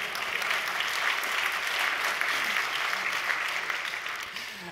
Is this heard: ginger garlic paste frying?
no